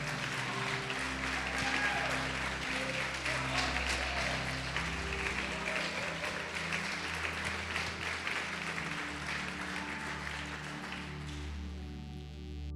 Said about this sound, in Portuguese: Você pode aplaudi-lo e glorificá-lo?